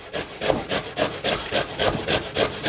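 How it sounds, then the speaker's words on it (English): Raw potatoes grated by hand into a bowl, heard as a brisk, even series of rasping strokes, about three per second, close and fairly loud with no talking. "we just grate it and throw it into the bowl"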